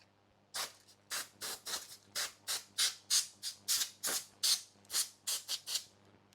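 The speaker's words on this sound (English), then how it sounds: "Let's get our compressed air." Short bursts of compressed air blast into an opened Xbox One console, about a dozen sharp hissing sprays in quick succession, close and loud, with a faint steady hum underneath.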